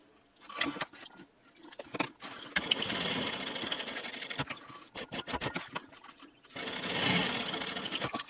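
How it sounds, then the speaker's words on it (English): A sewing machine top stitching around the edge of a fold-and-zip fabric backpack, running in bursts of rapid mechanical needle chatter separated by short pauses and handling clicks, close and fairly loud. "I want to top stitch all the way around here."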